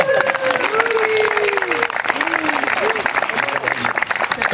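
Crowd applause at a Bastille Day event, sustained clapping and cheering that fills the space, with voices and tonal sounds mixed over it for several seconds.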